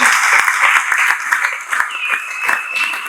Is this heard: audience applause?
yes